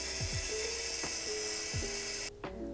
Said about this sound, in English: I got a fabric shaver and I've been shaving and it's been so good so far